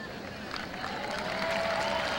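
A crowd at the 1986 US Open tennis semi-final between Navratilova and Graf applauds steadily, with a broad wash of clapping that swells a little, heard alongside faint arena noise.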